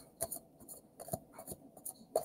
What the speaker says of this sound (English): shuffle, shuffle